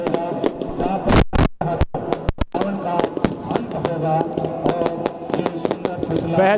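Fireworks burst at a Dussehra fair ground in Ladnun, a rapid series of loud cracks and bangs with crackling in between, with voices in the background.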